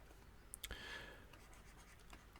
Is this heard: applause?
no